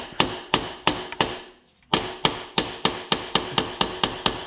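Repeated hammer blows drive a sprocket assembly forward during a 13-tooth sprocket change on a Banshee ATV: a steady run of loud, close metallic strikes with one short pause partway through.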